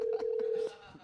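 Telephone keypad tones from a number being dialed, a steady pitched beep lasting over half a second followed by quieter tone fragments, faint and close.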